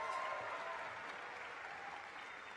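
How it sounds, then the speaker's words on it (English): High school graduation crowd at the Class of 2026 ceremony applauding, a brief, fairly distant wash of clapping that fades slightly toward the end. "you give yourself applause"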